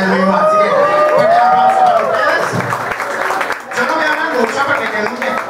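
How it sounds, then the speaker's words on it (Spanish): A live audience applauds itself at a show, with dense clapping mixed with cheers, whoops and loud voices, briefly dipping before swelling again. "quiero que ustedes se den un fuertísimo aplauso"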